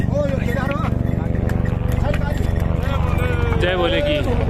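Horses and mules walk along the Kedarnath pilgrimage footpath, their hooves making a steady, close rhythm of clip-clops, with an occasional whinny and someone talking over them throughout.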